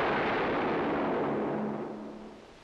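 A single gunshot in an old film, a heavy booming report that rolls out and decays over a couple of seconds into a fading rumble, heard alone without voices.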